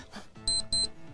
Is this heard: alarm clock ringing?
yes